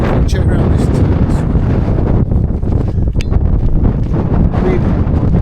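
Strong wind buffets a tent at a wild camp on Kinder Scout in the Peak District, roaring loudly and continuously against the microphone with gusty rustling.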